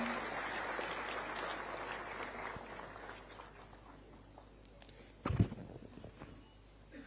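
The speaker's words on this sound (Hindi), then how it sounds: "तालियों की करतल ध्वनि से हम स्वागत करते हैं माननीय श्री अमित शाह जी का" Audience applause welcoming Amit Shah at a forensic science conference, a broad wash of clapping that fades over several seconds, followed by a louder brief knock or thump near the end.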